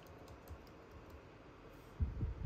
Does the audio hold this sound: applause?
no